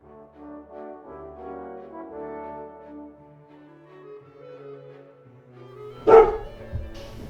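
A cartoon dog in a 3D animated story gives a single sharp bark near the end, after a stretch of soft background music.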